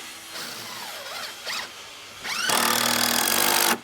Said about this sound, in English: if you want to put a screw, Yes, sir. couple screws there